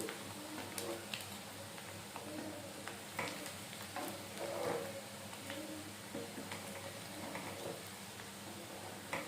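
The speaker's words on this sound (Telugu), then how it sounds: "ఈ ముక్కలు ఎలా బ్రౌన్ కలర్ వచ్చే వరకు వేయించుకుని చేసుకుంటేనే నిలవాగుద్ది." Chicken pieces for Andhra-style chicken avakaya pickle fry in hot oil until brown, a steady soft sizzle broken by occasional stirring scrapes and light clicks, heard close with no talking.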